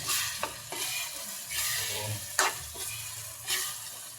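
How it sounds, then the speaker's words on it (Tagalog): Bagoong alamang, a shrimp paste, sizzles in a hot pan while a utensil stirs it, producing a steady frying hiss broken by repeated scraping sweeps and soft knocks at a loose rhythm, close and distinct, with no voices. "Bagoong alamang yan. Yan, ilagay na natin. Saka halo-haloin lang natin."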